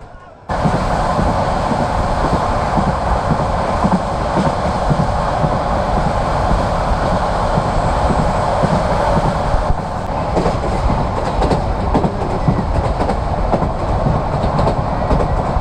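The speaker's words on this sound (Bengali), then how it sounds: "পর্যটক এক্সপ্রেস ট্রেনের সবচেয়ে ভালো লাগার দিকটি হলো দিনের বেলায় ট্রেনটি যায়" Paryatak Express passenger train running between Dhaka and Cox's Bazar, a loud steady rumble of wheels on rails with rhythmic clickety-clack throughout, heard from inside the carriage with no talk.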